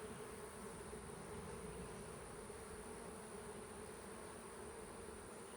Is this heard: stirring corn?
no